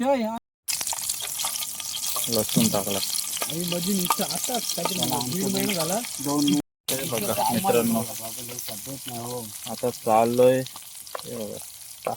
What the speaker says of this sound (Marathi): हा बघा आता फ्राय करायला घेतोय